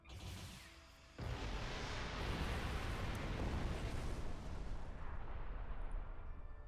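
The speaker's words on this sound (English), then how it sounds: "Explosion in the face, ladies and gentlemen" A video game explosion erupts suddenly after about a second of quieter sound, then becomes a loud, broad roaring blast that sustains and slowly fades over several seconds.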